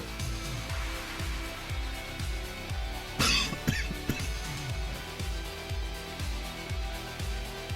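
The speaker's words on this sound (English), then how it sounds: "Glad that my coughing seems to be quiet though." A single person coughs once in a short harsh burst, standing out against a busy, continuous rhythmic background of game music.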